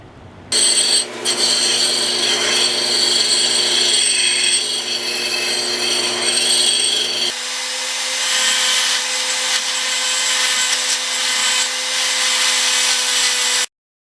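A grinder elongates holes in motorcycle windscreen brackets for a Yamaha MT-09, a loud, continuous high-pitched grinding whine that shifts pitch partway through and cuts off abruptly at the end.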